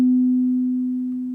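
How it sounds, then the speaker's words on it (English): Single pure tone from a tuning fork weighted with a blob of clay and knocked out of tune, a steady clear hum that slowly fades over about a second and a half, heard alone. "This tuning fork, as you can see, has a blob of clay on it."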